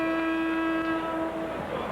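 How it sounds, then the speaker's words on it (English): Referee's whistle at a 1982 Celtics–Hawks NBA basketball game, a loud steady tonal blast held for nearly two seconds over arena crowd noise. "And we have a whistle on Gerald Henderson"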